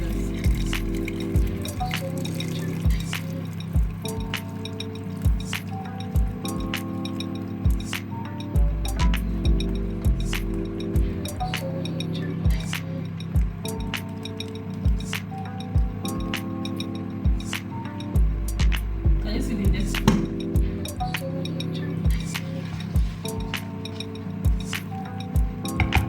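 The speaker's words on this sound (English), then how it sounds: "I'm done washing the fish" Fish being washed in water in a bowl while making banga soup, with repeated clinking, splashing and squishing handling sounds at a steady pace, close up with a low hum underneath.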